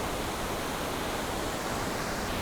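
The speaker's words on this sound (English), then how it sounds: "the water flow can be seen very well, and there are a little bit of mist rising from the waterfall" A waterfall cascading, heard as a steady, dense rush of falling water, broad and continuous with no breaks.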